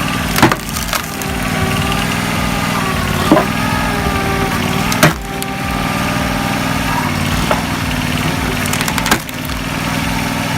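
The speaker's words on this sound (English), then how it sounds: "Heavy-duty drop-head splitters rely on controlled force and precise impact to process difficult hardwood quickly" Hardwood logs being split by a heavy-duty drop-head firewood splitter, with a steady engine drone running throughout and several sharp cracking impacts as the wood bursts apart.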